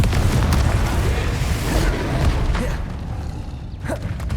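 A Confringo blasting spell goes off in Hogwarts Legacy, a loud, rumbling explosion with heavy low-end boom that holds steady, then thins into a lighter crackling tail.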